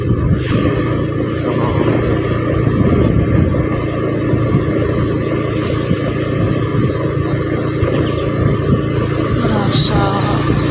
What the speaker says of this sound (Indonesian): Iya, truk kae.